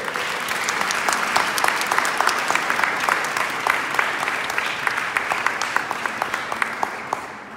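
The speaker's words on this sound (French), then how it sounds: "on peut encore vous applaudir très fort." A church audience applauds loudly after a Sufi dervish concert, with dense sustained clapping and distinct individual claps popping out near the front before it thins at the end.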